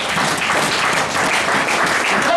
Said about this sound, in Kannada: ಜೋರಾಗಿ ಚಪ್ಪಾಳೆ ಕೊಡ್ಬೇಕು ಸಾರ್